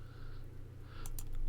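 A few light keystrokes on a computer keyboard during software setup, soft clicks in quick succession over a steady low hum.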